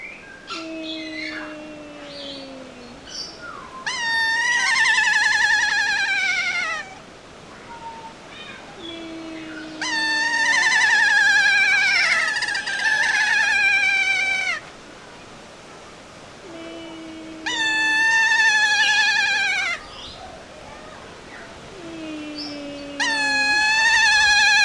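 Kea parrots give loud, repeated descending screeching calls in several bursts, each preceded by lower whistled notes, with quieter gaps between calls in an outdoor bird park.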